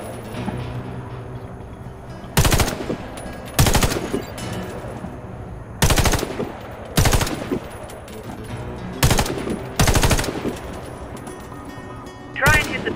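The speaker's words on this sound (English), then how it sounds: "Aiming increases your accuracy, which will make your shots more effective." Gunfire at targets rings out in the video game Warface: about eight sharp, loud bursts spaced a second or two apart over a low background hum.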